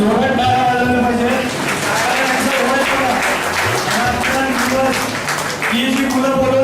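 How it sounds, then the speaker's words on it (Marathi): Audience applause at a 2014 village student felicitation ceremony, greeting a village official; steady clapping fills the whole stretch, mixed with tonal music or voices. "त्यांच्यासाठी जोरात टाळ्या वाजवल्या पाहिजे"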